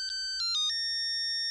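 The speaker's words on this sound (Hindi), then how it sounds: "रोशन को याद किया और रोशन का फोन आ गया" A mobile phone rings for an incoming call with a bright electronic melody of short, clear beeping notes, loud and close with nothing else around it.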